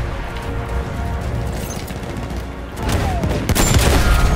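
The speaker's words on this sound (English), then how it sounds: "I can't see who's doing the firing on this." Dense gunfire rattles through a Battlefield 1 battle, with rapid fusillades and heavier bursts swelling louder near the end, close and harsh, without speech.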